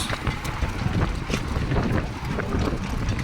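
Powerful wind sweeping dust through the streets of Medina, a continuous loud roar with repeated sharp gust buffets hitting the microphone.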